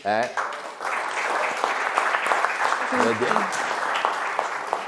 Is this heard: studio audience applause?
yes